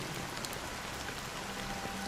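Rain in Honkai Star Rail, an even broadband hiss of falling drops, steady and fairly quiet, with no speech.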